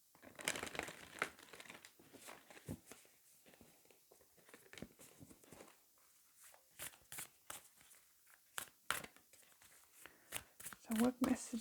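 Oracle cards being handled and shuffled, a quiet run of papery riffles, taps and flicks in uneven bursts, close and soft.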